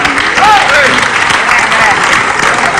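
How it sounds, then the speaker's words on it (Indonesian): Studio audience on an Indonesian comedy talk show bursts into steady, loud applause that runs the whole stretch, with voices calling out over the clapping. "Tepuk tangan dong."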